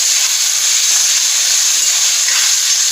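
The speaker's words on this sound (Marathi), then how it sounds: "तर फोडणी छान तळून घेऊया।" Whole spices, two Byadgi chillies and a little dried fenugreek leaf frying in hot oil for a tempering, giving a steady, close, loud sizzling hiss throughout with no pauses and no voices.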